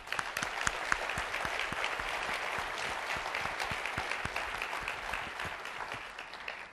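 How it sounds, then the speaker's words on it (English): A keynote audience breaks into applause, a dense, continuous patter of many hands with sharp individual claps, steady and full throughout. "So please, applause for Tim Ford"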